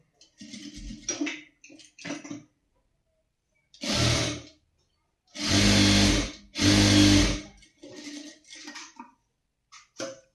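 A sewing machine stitches down the center of a folded waistband strip, running in three distinct bursts of steady whirring, the longest two back to back, with quieter handling noises between them.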